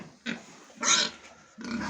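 Young fattening pigs grunt in three short bursts separated by brief pauses, close by, with no talking.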